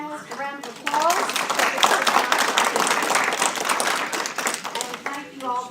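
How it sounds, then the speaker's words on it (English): A round of applause from a seated audience honouring panelists at a challenge session, with dense, steady clapping held at even strength for several seconds, framed by brief speech before and after. "Let's give our panelists a round of applause"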